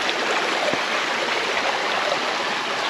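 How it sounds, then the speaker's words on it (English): Creek water rushing over rocks at a stream crossing on Panther Creek Trail, a steady close hiss of flowing water with no voices. "I think we got another creek crossing here."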